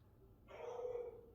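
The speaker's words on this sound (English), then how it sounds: "Pet Me as the dog is barking." A dog barks somewhere outside, a single drawn-out bark or yelp rising out of a quiet room tone, moderately faint and distant, with no talking over it.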